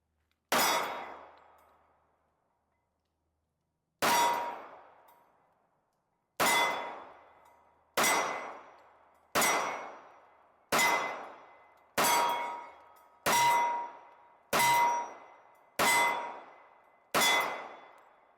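A CZ 97B pistol fires eleven sharp, loud shots at a range, the first few spaced seconds apart, then a quicker, steady cadence of roughly one shot per second, each with a ringing decay.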